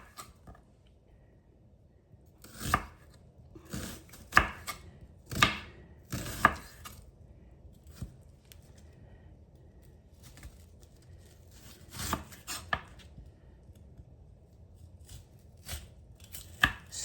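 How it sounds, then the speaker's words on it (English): Knife chopping red onion into half moons on a board, irregular sharp chops in short bursts with pauses, fairly close, no talking. "we've got our onion sliced up into half moons"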